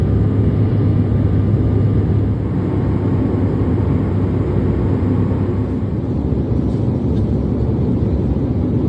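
Steady broadband airplane cabin drone during a flight, a constant low rumble and hiss that stays loud and even throughout with no talking.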